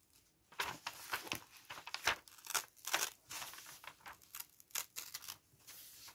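Scissors cutting along a pencil line in paper to make a triangle, heard as a series of close, crisp snips and rustles in an uneven rhythm, with no voice.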